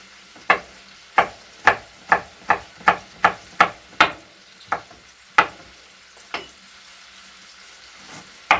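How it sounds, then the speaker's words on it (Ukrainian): Chicken being lightly browned in a pressure cooker, with a faint steady sizzle beneath a series of sharp, evenly spaced clacks of a utensil against the pot that gradually thin out, close and without talking. "Дуже зажарювати не буду, але трошечки, знаєте, так обсмажу, щоб не смерділо сирим."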